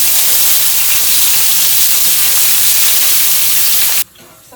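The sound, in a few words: paella ingredients sautéing in hot oil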